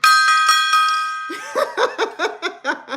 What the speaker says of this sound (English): Let me give the gong another shout.